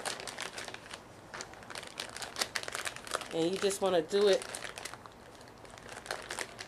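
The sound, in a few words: crinkling plastic bag while pressing pigment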